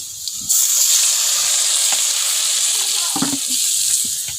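A sudden burst of loud sizzling as water hits a hot pan of fried grass carp, settling into a steady hiss with a few clinks near the end.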